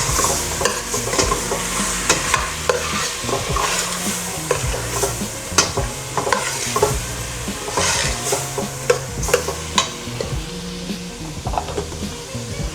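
Beef stir-fry with vegetables is stirred in a pan after oyster sauce goes in, producing a continuous loud sizzle. Repeated scraping and clacking strokes from the utensil against the pan sound close up, with no talking.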